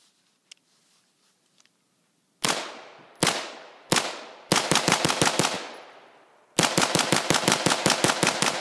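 Rifle shots fed from an E-Lander 40-round magazine crack out close and loud, first three separate shots, then a quick burst, a pause, and a long rapid string of shots. There is no talk.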